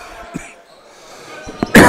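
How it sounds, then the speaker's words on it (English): A single loud, harsh cough from a commentator bursts out near the end, after a couple of faint thuds and a quiet pause, during a men's basketball game. "Excuse me for coughing."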